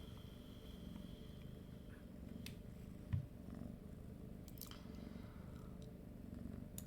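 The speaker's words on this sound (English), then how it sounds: "the cat is calming down" A cat purrs steadily and softly at close range throughout, a low continuous rumble with a brief thump partway through.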